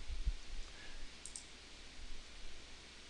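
Quiet, close mouse clicks while software is configured, a couple of faint clicks near the start over soft room noise, with no talking.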